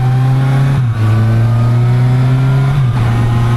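A Kawasaki Versys 1000 motorcycle engine drones loudly and steadily while riding, with a smooth held tone that dips briefly twice as the revs shift.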